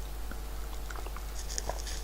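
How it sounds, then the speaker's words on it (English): Faint, small sipping and slurping sounds from tea being drunk close to the microphone, heard over a steady low hum and background hiss. "That was the sound of me drinking tea."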